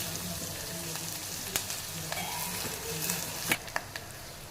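Curry leaves sizzle in hot oil in a pan for rasam, a soft, steady frying hiss with a few sharp pops and crackles near the end.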